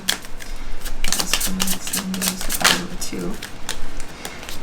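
Tarot cards being shuffled by hand, a steady run of quick crisp riffling and slapping card sounds close to the microphone, loud and continuous for several seconds.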